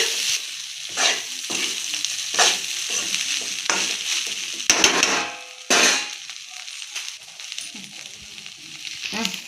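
Egg fried rice being tossed and stirred in a frying pan, with bursts of sizzling and scraping in an irregular rhythm, nearby and moderately loud, and a few sharper knocks of the utensil against the metal.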